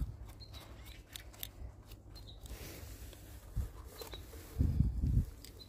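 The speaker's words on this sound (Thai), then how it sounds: "เดี๋ยวเราจะตัดขาก่อนที่จะเอาลงตะกร้าเนาะ ตัดตรงนี้เลยค่ะ" Scissors snip through the stems of morel mushrooms outdoors, a few soft close cuts and rustles near the end over quiet ambient noise with faint birdsong.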